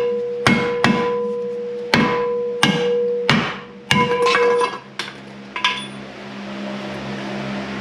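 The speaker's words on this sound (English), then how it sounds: "You just gotta knock it all loose." Rusted, worn-out control arm bushings on a 2003 Jeep Wrangler being hammered loose: about ten sharp metallic strikes ringing close and loud, spaced irregularly under a second apart, with nobody speaking.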